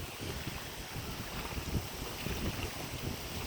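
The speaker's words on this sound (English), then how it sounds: "we got this strong wind" Strong wind gusting outdoors at a campsite near Minong, Wisconsin, with a steady, loud broadband roar and low rumbling buffets on the microphone, no voices.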